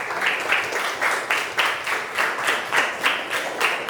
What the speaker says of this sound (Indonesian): tepuk tangan buat Juna